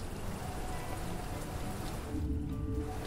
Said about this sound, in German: Ach, es regnet